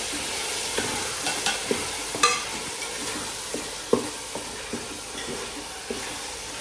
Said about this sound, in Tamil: இப்போ நம்ம நல்லா மிக்ஸ் பண்ணி கொடுக்கலாம்.